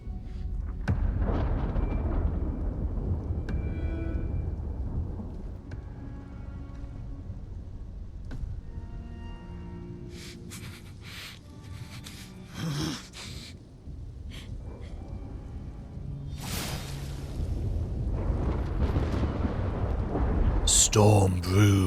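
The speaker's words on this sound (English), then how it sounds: "Storm brews." Thunderstorm in the video game Clair Obscur: Expedition 33, with deep rumbling thunder and a few sharp cracks over a steady low roar, loud and building toward the end, with brief voice sounds mixed in.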